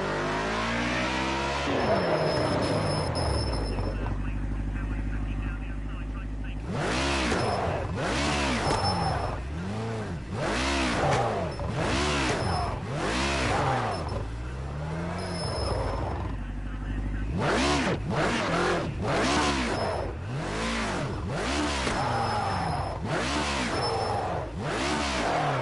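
A BMW in the racing game Project Cars 2 revs hard and accelerates through repeated gear changes, its engine note climbing and falling in loud sweeping pitch arcs. Someone talks over the engine at times.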